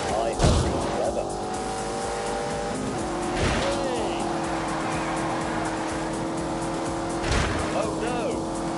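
A 4.4-litre twin-turbocharged V8 car with four-wheel drive, racing in The Grand Tour video game, its engine droning loudly and steadily with tire squeal and skidding over the top, while a voice talks over it.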